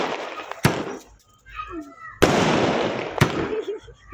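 A 60-shot sky shot fireworks cake fires outdoors with sharp, loud bursts spaced about a second apart, each trailing into crackling decay, with brief quieter gaps between.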